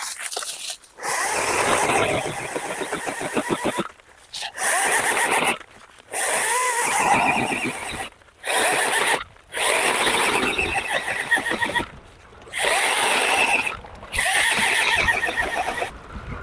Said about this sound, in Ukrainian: пробуємо спиляти товсту гілку туполі